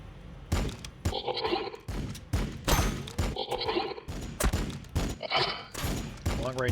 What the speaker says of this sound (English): I think that's a crack grenade